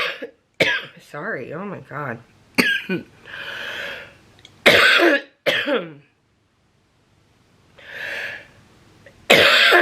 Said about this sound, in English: it's because I'm coughing